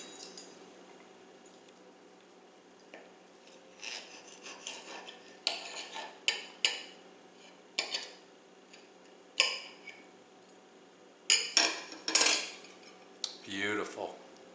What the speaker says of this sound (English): now you will want to eat these with a fork and a knife.